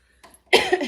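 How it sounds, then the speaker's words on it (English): A single short, close cough follows a faint breath, loud and abrupt, with no talk around it. "Sorry for my cough."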